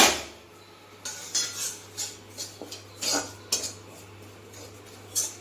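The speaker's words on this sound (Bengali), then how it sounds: "বেসনটা একটু মেরে নেব।" Gram flour (besan) dry-roasting in a pan, heard as a spoon or spatula scraping and clinking against the metal in irregular strokes, close by over a low steady stove hum.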